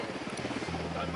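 Helicopter in the shooter game Ghost Recon Wildlands, a steady rotor drone and engine hum mixed under faint game noise, fairly close and continuous for a moment.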